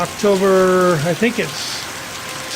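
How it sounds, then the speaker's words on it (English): Very heavy October thunderstorm rain in Green Valley, Arizona pours as a steady hiss beneath a person speaking briefly nearby. "we are getting a very, very heavy rain and a little bit of lightning and thunder out here."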